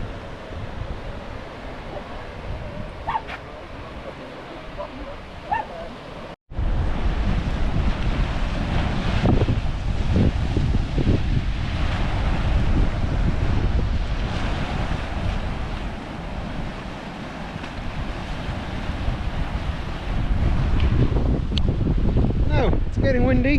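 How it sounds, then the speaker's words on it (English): Strong wind buffets the microphone at a beach, with steady roaring rush and surf-like wash throughout, briefly dipping then continuing loud and unbroken. "Getting windy."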